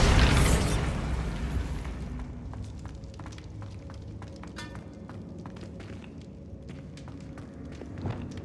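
The Bombarda spell detonates in Hogwarts Legacy with a loud, broad blast that fades over about two seconds into quieter debris clatter and scattered taps and footsteps.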